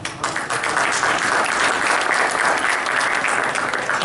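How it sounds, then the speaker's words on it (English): An awards ceremony audience applauds steadily, a dense, loud, even wash of clapping throughout. "for those of you that want to applaud to that."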